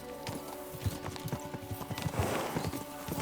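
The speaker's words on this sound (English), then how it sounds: "We should spur the horses on." Several horses gallop in the medieval video game Kingdom Come: Deliverance II, their rapid, uneven hoofbeats pounding close by over a steady background hum, with a faint whinny.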